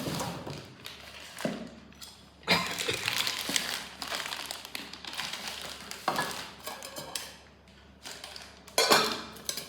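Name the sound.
pots and lids being handled in a kitchenware shop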